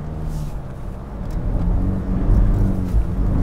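A new Land Rover Defender SUV engine labouring up a very steep off-road slope, a low, steady rumbling drone that swells louder as it climbs, close and continuous with no talking.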